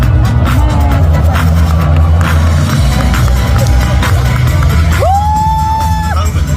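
Crowd noise at a national sports festival opening ceremony in Busan, a steady loud roar of spectators welcoming athletes, with cheering throughout and a rising whistle-like tone near the end.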